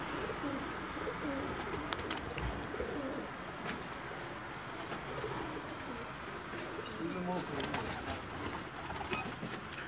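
Pigeons on a rooftop used for pigeon-flying contests coo and call softly amid faint background noise and occasional voices.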